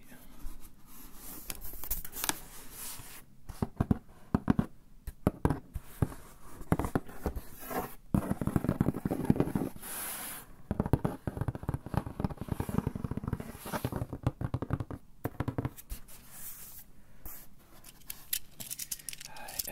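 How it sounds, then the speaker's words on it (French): A Cabaya parcel being unpacked up close, with continuous crinkling, tearing and rustling of packaging, steady and fairly loud, with some faint voice under it. "j'ai reçu un colis ce matin et je pense que je vais le déballer vite fait devant toi"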